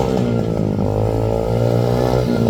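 A 125cc CRZ pit bike engine idles loud and close, a steady buzzing rumble with a slight uneven throb, no voices over it.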